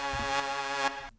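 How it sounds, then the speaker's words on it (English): Juno-style saw wave synth lead built in Serum for a tech house drop, with reverb and a boosted high end; a bright, buzzy sustained tone with rich harmonics holds steady for about a second, then cuts off cleanly. "all it is a Juno saw wave."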